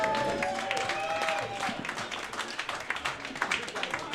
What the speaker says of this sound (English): Another round of applause for those two.